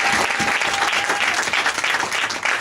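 A church congregation breaks into loud, sustained applause, many hands clapping together densely and evenly, with a faint voice and cheers mixed underneath.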